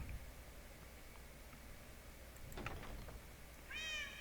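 A cat in the video game Minecraft gives one short, clear meow near the end, rising then falling, over a steady low background hiss with a few faint clicks.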